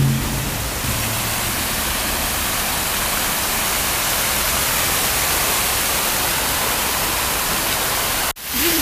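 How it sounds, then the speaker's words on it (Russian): A working outdoor fountain splashes with a constant broadband rush of falling water, close and loud, holding steady from start to end with a brief interruption near the finish. "Этот шум воды вообще просто так успокаивает."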